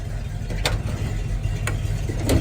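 A 1957 Chevrolet C/K 10 pickup with a 350 V8, 4-barrel intake, cam and dual exhaust idles steadily up close, a low even rumble broken by a few sharp ticks.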